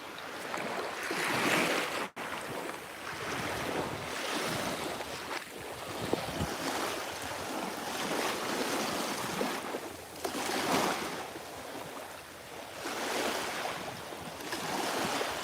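Waves wash onto a beach at Ko Phayam, Thailand, in slow repeating surges of surf that build and recede every few seconds, mixed with steady wind noise buffeting the microphone.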